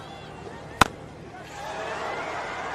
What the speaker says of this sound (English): Oh, a crisp sound off the bat.